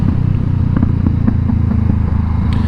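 A Honda CBR500R motorcycle on the move, its engine a loud, steady low drone with wind rumble and faint clatter throughout, no break in the sound.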